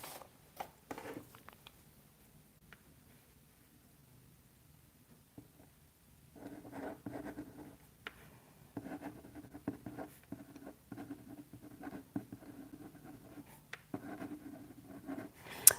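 A pen scratches across paper in short bursts of writing, starting and stopping, close and quiet, with long silent pauses and no talking.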